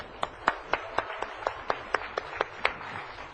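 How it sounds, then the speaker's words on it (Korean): Evenly spaced claps ring out in a church congregation as the deacon is applauded during a Bible study service, about a dozen sharp, regular hand claps close by, with no talk over them. "최 집사님 좀 보고 박수를 쳐요."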